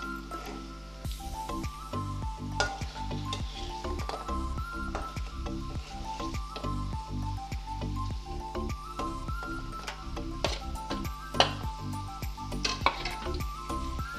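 Paneer cubes frying in hot oil, a loud continuous sizzle with crackling spatter and recurring rhythmic pulses, steady throughout.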